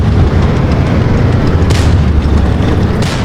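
Tank cannon fire in World of Tanks comes as a loud, sustained booming rumble with heavy low-end weight and a couple of sharper blasts breaking through.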